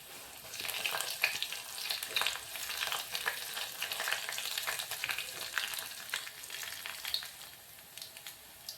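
Cumin, mustard seeds, curry leaves and garlic crackle in hot oil in a steady, close sizzle, with sharp pops and spatters scattered throughout and no voices.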